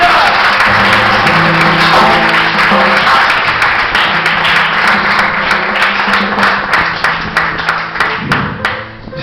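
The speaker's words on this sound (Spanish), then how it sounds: "Denle un aplauso a Cristo en esta mañana." A church congregation applauds during a Sunday morning service, loud dense clapping with sustained tones underneath that gradually thins into scattered separate claps near the end.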